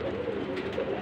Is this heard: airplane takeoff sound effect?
no